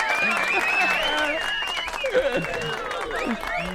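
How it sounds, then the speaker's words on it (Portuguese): Applause on a Brazilian morning talk show, steady clapping from a studio audience layered with upbeat background music, played alone without talk. "Aplausos? Tem que pôr, vai."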